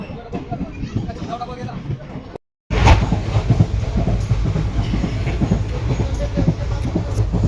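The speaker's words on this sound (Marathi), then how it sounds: "आपली गाडी आलेली आहे बघा." A train rolls up to platform 4 at a busy Indian railway station: a steady low rumble and clatter of wagons starts abruptly after a brief silence and continues loudly, with crowd chatter and voices throughout.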